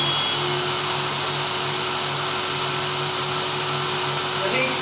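A Versaspa 2 automated spray tanning booth runs with a continuous loud airy hiss and a low steady hum beneath, unbroken throughout with no voices.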